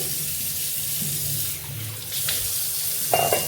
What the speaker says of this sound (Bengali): এখন বাটিটা ধুয়ে রেখে দেই